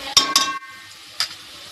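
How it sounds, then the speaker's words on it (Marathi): Reddish onion frying in oil in a pan for veg paneer biryani, stirred with a few sharp scraping sizzle bursts near the start and one more after a short quiet gap. "कांदा फ्राय होतोय आपला, व्यवस्थित असा हलवून घ्यायचा आहे."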